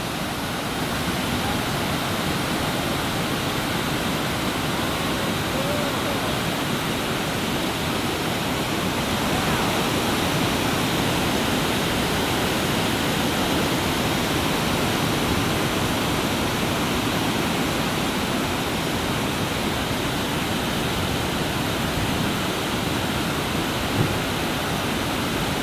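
Flood water roars down the O'Shaughnessy Dam spillway in a massive release, a loud, steady, broadband rush like a waterfall that continues without a break for the whole stretch.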